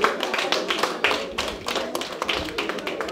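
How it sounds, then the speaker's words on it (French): An audience at an evening African artisan fair in Paris applauds the chargé d'affaires, giving a brief burst of dense, close clapping with sharp irregular taps that keeps up throughout the few seconds. "S'il vous plaît, on l'applaudit."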